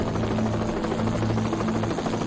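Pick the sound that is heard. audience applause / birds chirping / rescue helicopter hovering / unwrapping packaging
rescue helicopter hovering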